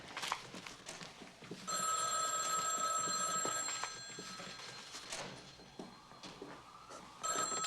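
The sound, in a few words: telephone ringing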